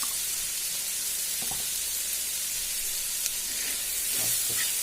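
Vegetables and spices for poha, with salt, garam masala and red chilli, sizzle steadily in a hot pan, a continuous close hiss with a few faint stirring clicks.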